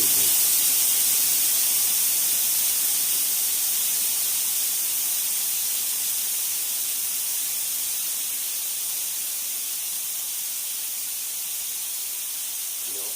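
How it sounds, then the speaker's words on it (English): Compressed air blasting steadily from an air chuck fed by a compressor with a second air tank, one continuous loud, close hiss that fades very slightly over its length. "I've got an air chuck on the end of this. There is a lot of air volume."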